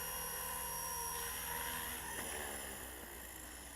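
A Blade 230 S radio-controlled helicopter hovers nearby with a loud, continuous high-pitched whine of motor and rotor that shifts slightly in pitch and eases a little toward the end, with no voices.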